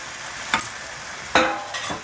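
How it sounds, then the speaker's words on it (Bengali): Chicken stir-fried in a pan of fried spices: three short scraping stirs at intervals over a low, steady sizzle, close and fairly quiet. "মশলাটা ফ্রাই হয়ে গেছে এখন চিকেনটা ঢেলে দিলাম চিকেনটা কষাতে কষাতে"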